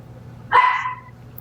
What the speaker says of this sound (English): Our little chihuahua's barking.